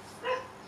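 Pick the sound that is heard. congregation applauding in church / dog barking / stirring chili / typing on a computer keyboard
dog barking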